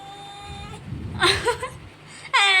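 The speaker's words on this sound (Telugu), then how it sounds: "అరుస్తూనే ఉంటుంది మ్యావ్ మ్యావ్ అని" A cat gives two drawn-out, whiny meows, separated by a short stretch of rustling and breathy noise.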